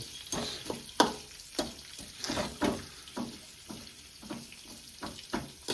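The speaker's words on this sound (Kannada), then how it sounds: "ಈಗ ಟೊಮೊಟೊ ಎಲ್ಲ ಹಾಕಿದಾಗ ಫ್ರೈ ಆಗಬೇಕು" Tomatoes frying in a pan for shavige uppittu, a soft steady sizzle broken by repeated scraping stirs of a spoon at an uneven rhythm, close and with no talking.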